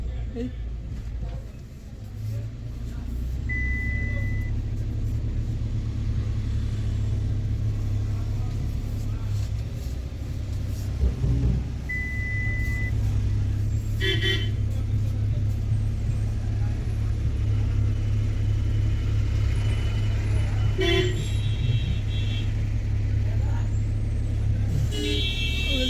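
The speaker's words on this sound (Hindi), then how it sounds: "रोड पे यहीं से गाड़ियाँ भी चल भी रही हैं और रुक भी रही हैं यहाँ पे" Traffic on the mountain highway NH-244 between Batote, Doda and Kishtwar, with a bus and a trolley stopped beside the road as vehicles move and halt; a steady low engine rumble runs throughout, with brief hissing bursts like air brakes and people talking nearby.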